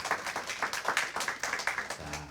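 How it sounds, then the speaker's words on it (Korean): A church congregation claps briskly to give glory to God during a Korean worship service, quick irregular hand claps at moderate distance, fairly quiet, with no voices over them. "우리 하나님께 영광을 박수로 올려드리겠습니다"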